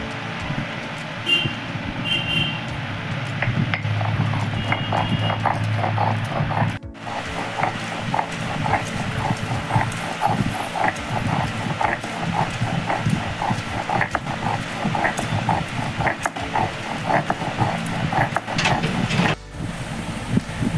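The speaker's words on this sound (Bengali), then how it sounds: "কচু আর নারকেল আবার একসাথে বাটবো।" Taro and grated coconut are ground together into a paste: a continuous run of rhythmic grinding and knocking strokes, close and steady for about twenty seconds, with no speech.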